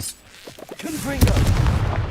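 Confringo blast spell firing in the Hogwarts Legacy game, a sharp crack followed by a sustained roaring burst, with a voice speaking briefly just before the blast.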